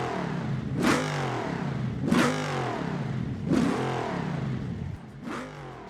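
An LS-swapped Tesla running twin turbos in BeamNG Drive revs hard three times in a regular rhythm, each rising engine sweep falling back to idle between, close and loud with no voices.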